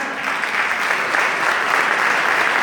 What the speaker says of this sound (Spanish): nuevamente reiteramos el aplauso para quienes han cerrado esta jornada.